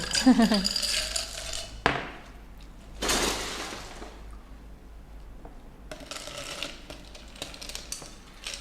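Spoon stirring a two-tone Thai pink milk drink with ice in a glass, bursts of scraping and clinking rattles alternating with quieter stretches, close and fairly loud.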